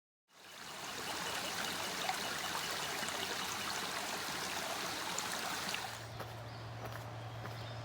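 A creek flows steadily nearby, a dense, even rush of running water that starts abruptly and holds constant, with a low hum joining underneath near the end.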